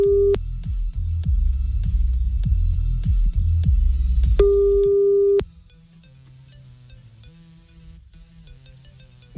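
A telephone ringing tone on a call placed during a radio show: long steady beeps repeat over a busy bed of background music, then the music cuts out and only a faint low hum remains on the line.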